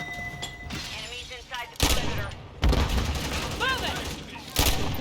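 Gunfire from a Thai-made DTI7 gun in Call of Duty Modern Warfare III, a few sharp bursts of shots cutting through game noise while someone talks excitedly between them.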